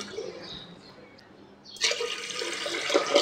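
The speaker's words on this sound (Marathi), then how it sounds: "याच्यामध्ये दुप्पट पाणी घालूया आपण" Water pours onto washed wheat, a double measure, in a sudden rushing stream that starts after a quiet stretch and keeps splashing steadily to the end.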